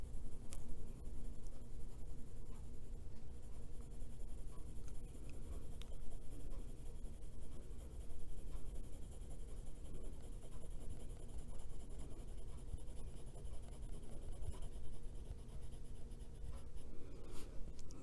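Colored pencil scratches steadily across adult coloring book paper, a close, soft, continuous scribbling with no talk.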